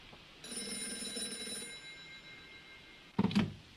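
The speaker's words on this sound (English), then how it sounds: "How did you know the phone would ring just now?" Telephone bell ringing indoors in two bursts, a longer ring followed by a short second ring after a pause, fairly faint and with no talking.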